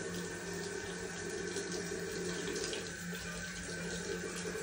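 Water runs steadily from a bathroom sink faucet while a child brushes their teeth, a constant close hiss and splash with no pauses.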